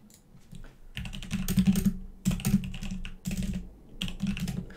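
Fast, dense typing on a computer keyboard with clicking runs in several bursts broken by brief pauses, close and clear, with no voices.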